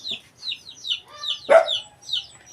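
A hen clucks in a steady run of short, close, repeated clucks with one louder squawk partway through, on a farm.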